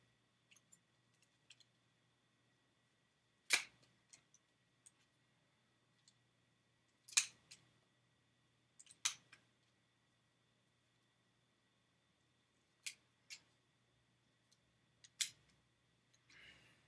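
A wand being trimmed, heard as faint, sparse snips and clicks that come singly or in small clusters every few seconds against a quiet background.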